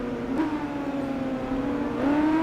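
A sport motorcycle in the racing game Tourist Trophy, a Triumph Speed Triple, revs steadily toward 12,000 RPM, a continuous high engine whine that climbs in pitch toward the end.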